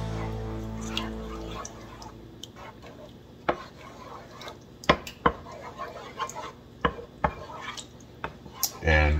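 Seasonings being stirred into a ciabatta pizza bread topping in a home kitchen, heard as soft scraping and stirring with sharp utensil clicks and taps against a bowl, close and moderately quiet with a low hum early on.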